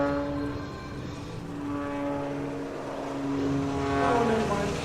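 The MXS-RH aerobatic plane's engine drones with a wavering, shifting pitch through a flat spin on final approach at an air show, heard at some distance under steady wind-like noise.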